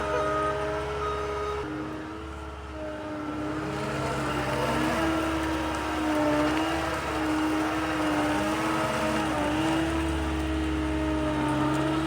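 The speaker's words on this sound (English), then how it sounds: "So I need to ride the brake down in this bog hole while going in reverse so I don't hit the skid steer." A car engine labors steadily while reversing through a muddy bog, a loud continuous drone with shifting tones as the revs rise and fall.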